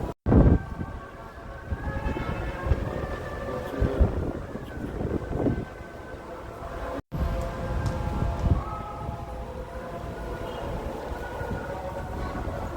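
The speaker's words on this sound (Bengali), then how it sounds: "একটু বাতাস আছে, বাতাসের জন্য অনেক ভালো লাগতেছে।" Hot wind blows outdoors near a market in Dammam, Saudi Arabia, buffeting the microphone in uneven, rumbling gusts with a brief dropout midway.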